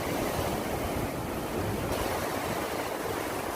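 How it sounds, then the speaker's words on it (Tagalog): Rough sea waves crash against the rocks at Burgos, Pangasinan in a loud, steady roar of surf and spray, with wind buffeting close to the microphone and no talking. "Nagagalit na dagat oh. Galit na galit."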